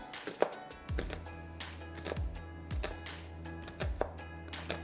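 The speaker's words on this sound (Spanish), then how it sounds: "La cortamos bien pequeñita." Red onion being chopped finely with a knife on a board, a series of quick close knocks in uneven bursts, roughly a few cuts per second, with a faint background hum.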